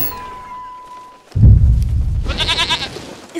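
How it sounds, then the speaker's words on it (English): A goat bleats loudly in a comedic dinosaur-park parody scene, following a sudden low rumble, with a wavering bleat close and prominent at the end. "Is he gonna eat the goat?"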